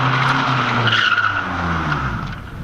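Nissan 240SX coupe with an RB25 engine and open differential drifting, tires skidding and squealing loudly over a strained engine roar, sustained and close for the whole stretch.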